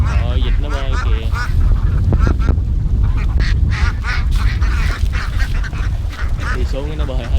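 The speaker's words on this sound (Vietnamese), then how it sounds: "Rồi cả nhà ơi, không có chuột, mình coi vịt đỡ. Rồi vịt nó bơi kìa." A flock of ducks swimming together on water in rural An Giang, Vietnam, quacks repeatedly in loud nearby bursts, mixed with a person talking over steady background noise.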